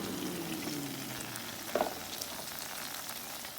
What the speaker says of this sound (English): I want you guys to hear this sizzle